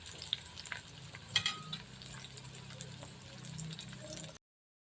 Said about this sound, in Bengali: একটু নেড়ে দেব, একটু পেঁয়াজটাকে হতে দেব, শুকনো লঙ্কাটাকে একটু হতে দেব